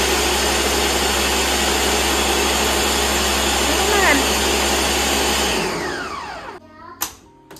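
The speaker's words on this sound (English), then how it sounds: "If there's any ice in it, you can hear it smashing against the blender." A blender crushing ice roars loudly and steadily, with a brief rattling sound of ice partway through, then winds down and stops, followed by a couple of sharp clicks.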